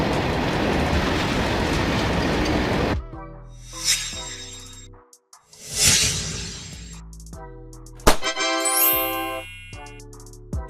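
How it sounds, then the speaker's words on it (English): Tanker freight train made of tank cars: a loud rushing roll of wheels cuts off, followed by clanking, ringing metallic tones and squealing wheels in several separate bursts. "A freight train made up of tank cars, designed to transport liquids or gases"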